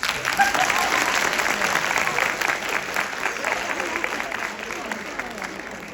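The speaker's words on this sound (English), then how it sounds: "Y'all can clap if you want to" Audience applause at a university tour event, a dense, steady patter of many hands clapping together for several seconds, loud and continuous with a slight fade toward the end.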